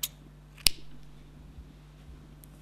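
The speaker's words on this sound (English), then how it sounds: "Now you can cut your yarn" Scissors snip through crochet yarn in a single crisp close cut, with a fainter click at the start and a quiet, hum-filled background afterward.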